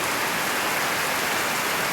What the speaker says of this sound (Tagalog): Pero grabe yung buhos at tatak ng ulan, malakas siya talaga.